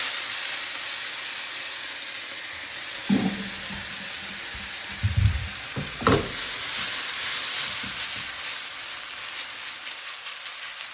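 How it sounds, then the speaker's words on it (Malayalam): Instant chicken noodles go into a hot pan of olive oil and fry with a steady, bright sizzle, broken by a few clunks and stirring scrapes. "അതിനകത്തേക്ക് നമുക്ക് നമ്മുടെ നൂഡിൽസിനെ അങ്ങ് ഇട്ട് കൊടുക്കും"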